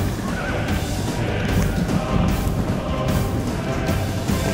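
Horses whinny and neigh as they are shot in the Rome: Total War video game, several cries layered over a loud, continuous battle din of clatter and crashes, no talking.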